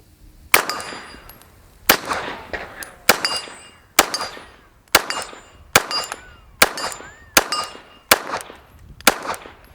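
A Glock 17 Gen 6 fires about ten evenly spaced shots, each a sharp report followed by a ringing clang as the bullet strikes a steel target, loud and close with no voices.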